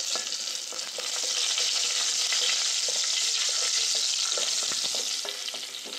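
Whole spices, including star anise, cinnamon, bay leaf, three cloves and three peppercorns, fry in hot oil in a pan with a loud, dense, even sizzle, accompanied by occasional scraping stirs, without any voices.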